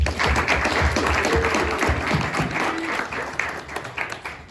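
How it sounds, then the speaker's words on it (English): Audience applause at a speaker series event for the organizer who prepared the room, a steady crowd clapping that begins full and tapers off toward the end, with faint voices mixed in. "let's please give a nice round of applause for Jan Finlayson"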